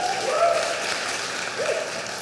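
A church congregation gives the worship team a brief burst of applause at a sixth anniversary service, a moderate, somewhat thin wash of clapping heard from within the room over a couple of seconds.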